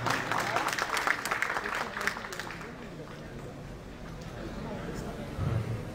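Seminar audience applause, a moderate burst of clapping that fades over a few seconds into low room murmur, with some background chatter.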